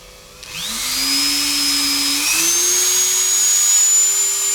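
A Dremel 3000 mini rotary tool whines steadily, its pitch climbing in steps as the speed is raised, loud and close with no talking.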